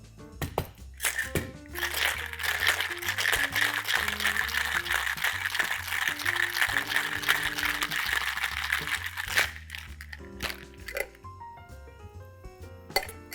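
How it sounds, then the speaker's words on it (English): Ice rattles hard inside a cocktail shaker as a True Azul cocktail is mixed, a dense, steady shaking that runs for about eight seconds before stopping, with music playing underneath throughout. "Load your shaker up. You're going to shake this cocktail."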